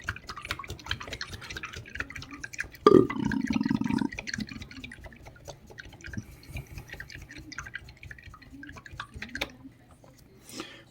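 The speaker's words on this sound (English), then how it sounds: "I'm going to wash off my paintbrush to make sure there's no contrast medium on there at all" A paintbrush is swirled and rinsed in a cup of water, giving a short burst of close splashing and sloshing followed by faint drips and light clinks.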